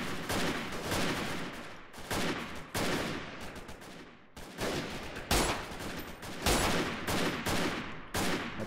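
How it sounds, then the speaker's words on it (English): Bursts of gunfire from the Freeman: Guerrilla Warfare video game, ArmA-style combat, rapid volleys and fusillades repeating loudly in close succession throughout, with brief gaps between bursts. "I'm trying to find out where they're shooting at."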